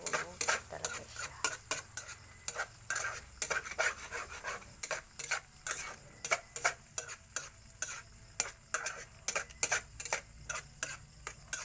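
Sardines and egg being stirred in a frying pan: a quick, irregular series of metal utensil clicks and scrapes against the pan over a soft, faint sizzle, close and alone.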